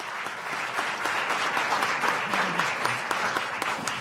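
Sustained applause from the audience at a Tucson city council meeting for a 2019 Youth Award winner, full and steady crowd clapping with faint voices mixed in.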